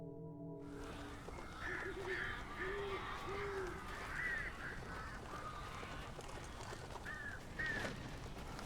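Crows caw in the Alan Wake video game, a series of rough calls scattered over a dark, rumbling ambient background, moderately close and not loud.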